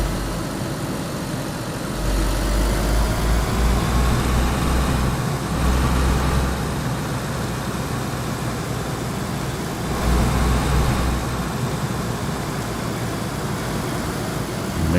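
A car engine in the video game DayZ runs steadily, a low, close rumbling drone that swells slightly at moments and holds for the whole stretch with no talking.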